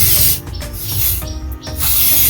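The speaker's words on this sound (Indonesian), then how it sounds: "Ini tali pusarnya kita semprot seperti ini" Antiseptic spray hisses onto a newborn goat's umbilical cord from about 10 cm away, in loud, close bursts separated by short pauses.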